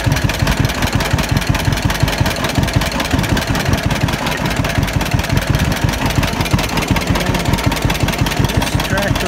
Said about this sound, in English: This tractor was made in 1952. It was the last year they made this two-cylinder tractor.